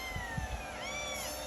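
Kittens give a few faint, thin meows in a quiet indoor space with soft background noise, calls rising and falling toward the end.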